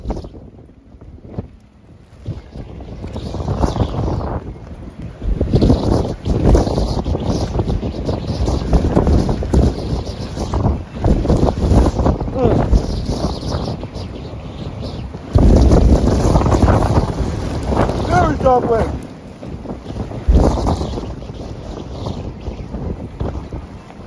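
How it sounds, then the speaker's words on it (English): Strong wind gusts from a severe thunderstorm with tornado warnings and an incoming hail core roar and buffet the microphone in loud, surging waves that rise and fall over the whole stretch, with no voice heard. "very strong wind right here."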